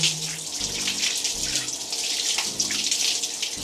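A Ulefone Armor Pad Pro rugged tablet is rinsed under a running tap, with a steady close splashing flow of water broken by faint shifting spatter.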